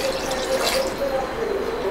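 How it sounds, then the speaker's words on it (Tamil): Water being poured into a pressure cooker while preparing a goat intestine fry, a steady close splashing and trickling stream running throughout with no talk. "நெக்ஸ்ட் இதுக்கு தேவையான அளவு தண்ணி ஊற்றிக்கலாம்"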